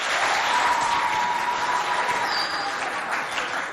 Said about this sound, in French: Applaudissez-vous bien fort.